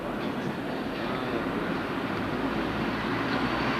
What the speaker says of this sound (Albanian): Treni shkoj.